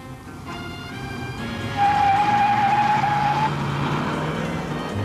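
A Dodge Charger with a TorqueFlite automatic transmission accelerates hard from a standstill to 45 mph on a road test. The engine roar builds steadily with a sustained whine, close and loud, with no talk.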